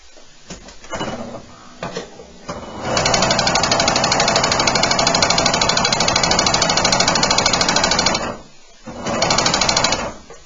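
A Husqvarna Huskylock 936 serger whirs into a loud, rapid mechanical chatter that runs steadily for several seconds, preceded and followed by short stuttering bursts as it starts up after a stitch length change.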